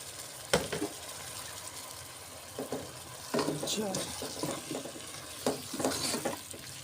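Aloo saag being stirred in a pan after water is added, with scraping spoon strokes and soft wet sizzling coming in uneven bursts.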